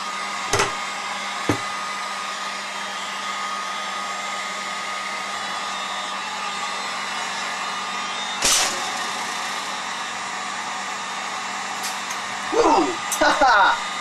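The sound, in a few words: hot air gun heating an electronic circuit board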